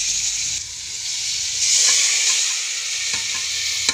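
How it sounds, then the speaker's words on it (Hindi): Curry leaves and achar masala crackle and sizzle in hot oil for an achari dal tempering, a steady close hiss with brief stirring scrapes and no talk. "बस हमने इसको थोड़ा सा ही हिला के इस तरह से और मसाले को कड़कड़ाना है"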